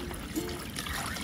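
Rainwater from a collection container poured into vermicompost bedding of newspaper and cardboard, giving a steady, close trickling and splashing wash that runs continuously with no talk.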